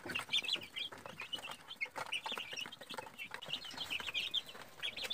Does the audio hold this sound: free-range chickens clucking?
yes